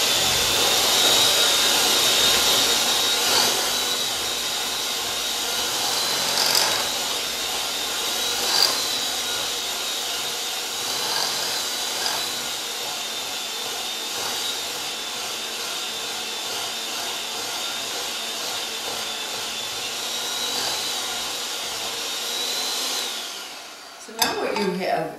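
An electric mixer whirs continuously through almond sugar cookie dough, a loud close motor drone with slight shifts in pitch, running for nearly the whole stretch before cutting off abruptly near the end.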